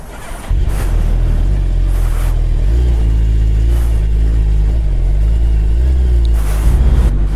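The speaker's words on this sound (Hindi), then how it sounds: "अभी गाड़ी स्टार्ट करते हैं और निकलते हैं धूम मचाने" A Suzuki Hayabusa motorcycle engine firing up and settling into a loud, steady idle with a few revs, close and continuous throughout, with no talk over it.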